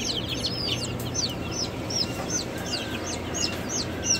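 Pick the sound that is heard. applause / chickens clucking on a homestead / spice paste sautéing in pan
chickens clucking on a homestead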